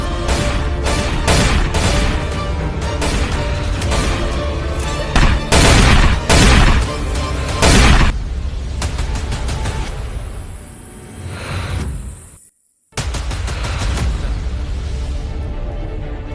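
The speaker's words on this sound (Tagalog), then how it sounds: "Tinatuloy ang pagsabog." Heavy explosions and bursts of gunfire form a dense, chaotic barrage of booms and rapid cracks, loud and close, with a brief drop to silence near the end before the din resumes.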